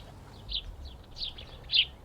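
Sparrows at a garden bird feeder give three or four short, high chirps, spaced apart and fairly faint against a quiet low background rumble.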